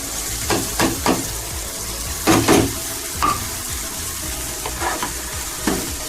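Lentils for dal stirred into a pan of frying masala, a steady close sizzle broken by several louder scraping stirs and spatters, with no talk.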